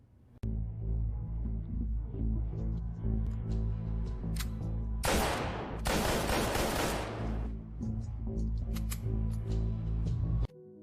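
A rapid fusillade of gunshots at shooting practice, loud and dense, with a sustained burst of automatic fire in the middle over a steady background bed.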